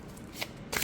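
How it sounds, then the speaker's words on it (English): A tarot card deck is riffled in a brief overhand or side shuffle on a mat, giving two quick papery flutters close to the microphone. "for overhand or side shuffling, also no issues"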